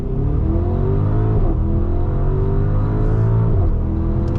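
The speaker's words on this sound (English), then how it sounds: "I'm just gonna do the 0 to 60s to see if we can do any better." A 2025 Audi SQ7 4.0T accelerates hard from a standstill in a 0 to 60 run, its engine droning loud and steady from inside the cabin, pitch climbing through gear changes with brief dips near 1.5 and 3.7 seconds.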